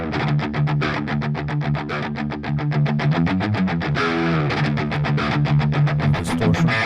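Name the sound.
guitar through amp sim, clean signal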